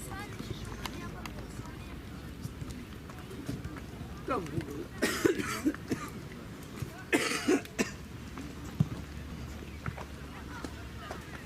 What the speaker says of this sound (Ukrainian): сначала он покашлял в кулак